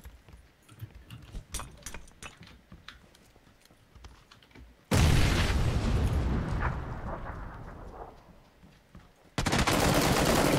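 Grenade blast and gunfire in PUBG: scattered rapid shots and clicks, then a sudden loud explosion that booms and slowly fades, followed by another loud burst near the end.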